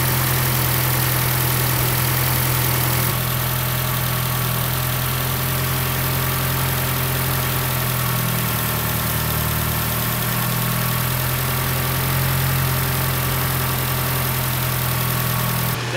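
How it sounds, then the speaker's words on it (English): A Chevy LUV truck engine idles at about 1100 RPM after its ignition timing has been advanced, giving a steady, even hum with a low rumble for the whole stretch and no speech over it. "Now I need to let the engine warm up completely before setting the idle speed"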